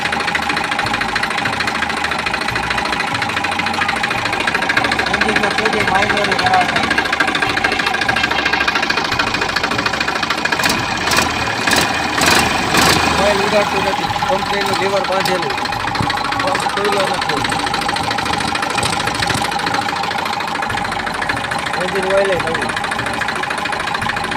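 An old Massey Ferguson 241 DI tractor's diesel engine runs steadily close by with a rough, knocking idle and some rhythmic clatter midway, under someone speaking.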